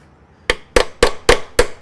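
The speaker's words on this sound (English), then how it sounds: "you take a hammer or a chisel and you just kind of try to turn the screw" Five sharp metallic hammer taps on a chisel against a jammed screw in an 85-year-old aluminum storefront, struck at a steady rhythm, close and clear after a brief quiet start.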